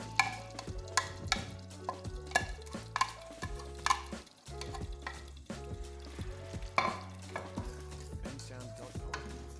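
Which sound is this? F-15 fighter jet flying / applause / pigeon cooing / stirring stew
stirring stew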